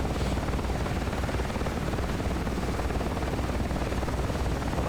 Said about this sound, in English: And me and my Huey will just keep moving along.